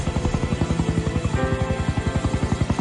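Coast guard rescue helicopter arriving at a plane crash site, its rotor beating in a steady, loud rhythmic chop with a turbine whine rising partway through, close and alone with no voices.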